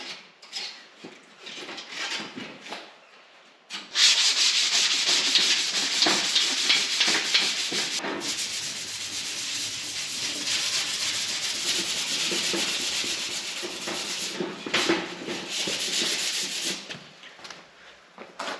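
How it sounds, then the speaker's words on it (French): Sandpaper rubs across a car's rear hatch window frame before painting, quiet scraping at first, then after a brief pause a steady, close run of back-and-forth sanding strokes. "Et ensuite je vais le poncer grain 180,"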